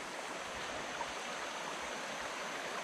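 Pequea Creek rushes through a rocky gorge near a popular swimming hole, a steady broadband wash of flowing water with no pause, moderately loud and close, with no voices over it.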